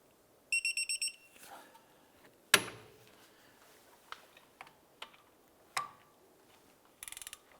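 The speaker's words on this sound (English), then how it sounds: "I'm going to torque these bolts to 94 foot-pounds." A torque wrench tightening rear brake caliper bolts to 94 foot-pounds on a 2006-2011 Cadillac DTS gives a quick series of faint electronic beeps, then sharp metallic clicks at intervals and another short beeping run at the end.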